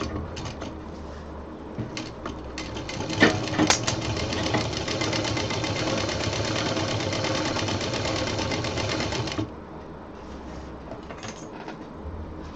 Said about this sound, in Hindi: अब दूसरी तरफ का सिल देते हैं।